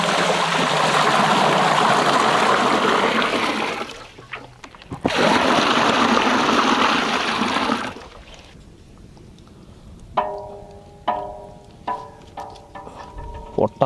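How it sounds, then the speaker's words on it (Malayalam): Water poured from a vessel into a cooking pot over a burning wood fire to boil eggs for a large dhaba-style egg curry, a loud steady gushing splash in two long pours, then quieter clinks and knocks of the pot. "വെള്ളം ഒഴിച്ചെടുക്കാം."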